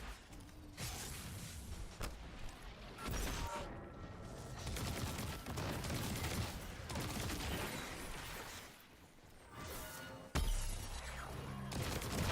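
Video game gunfire rattles in bursts amid booming impacts and clanking mechanisms, loud and busy over a dense game soundtrack, with brief gaps between volleys.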